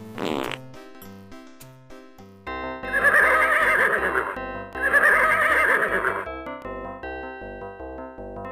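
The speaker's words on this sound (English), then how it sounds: "Somebody's poor horse seems to be dispelling huge quantities of a noxious methane compound." A horse in the western comedy adventure game Freddy Pharkas lets out two long, loud, buzzing bursts of flatulence, following a short whinny and set against jaunty synthesized game music.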